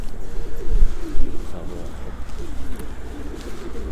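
Pigeons coo in low, repeated calls close by over a rough, breezy outdoor background.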